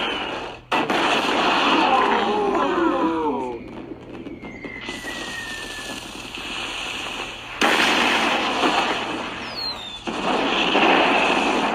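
Fireworks burst and crackle in the LEGO Regular Show video game. Several loud, sustained rushes of explosions and whistling streaks are heard over background game music, with a few separate volleys.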